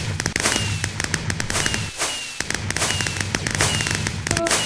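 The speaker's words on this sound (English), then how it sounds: "Why have I not played with fireworks before?" Fireworks burst again and again on New Year's Eve, a dense run of sharp cracks and pops close by, with no voices over them.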